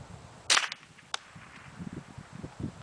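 A single sharp crack of a Ruger 10/22 .22 LR rifle fired toward a bullet trap 300 yards out, followed by a second fainter snap and quiet outdoor background with low rumbling.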